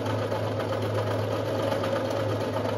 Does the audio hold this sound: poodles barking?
no